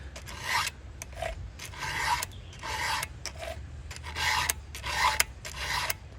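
A hand file sharpens the rake teeth of a chainsaw chain in repeated rasping strokes, steady and close, each stroke a bright gritty scrape separated by short pauses, with no talk.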